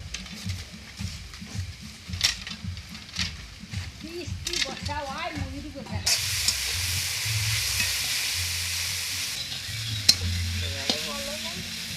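Vegetable momo stuffing with chopped capsicum frying in a pan, a steady sizzle with stirring scrapes heard under a voice that speaks over much of it, the hiss growing louder and denser in the second half.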